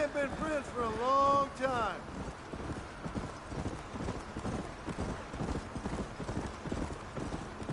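Horse hooves clip-clop in Red Dead Redemption, a steady rhythmic gait heard close alongside wind and game ambience, with a brief tonal sweep near the start and no speech over it.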